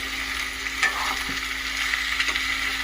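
Sliced ivy gourd crackles in a hot pan as it is stirred, a steady close sizzle with a few brief scraping strokes and no voices.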